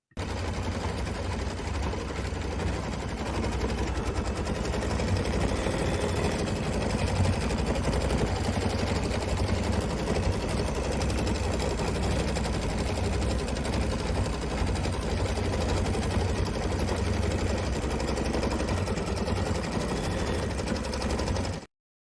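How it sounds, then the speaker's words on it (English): Kimberbell embroidery machine stitching quilting through a quilt sandwich, a steady rapid mechanical whir and chatter running loud and unbroken throughout, with no talking. "Let's take a little look at a little video clip of the process of a quilting."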